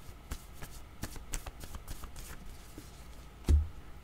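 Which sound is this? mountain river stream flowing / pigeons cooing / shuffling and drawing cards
shuffling and drawing cards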